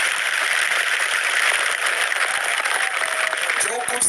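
Congregation applause at a Christmas festival church service, steady dense clapping from many hands filling the room, loud and continuous throughout.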